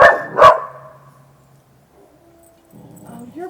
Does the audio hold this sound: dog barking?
yes